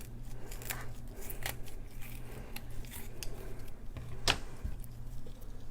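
Scissors snip through a fish's belly as it is cut open for a stomach check, a few sharp close clicks and crunchy cuts over a low steady background hum, with one louder snap near the end.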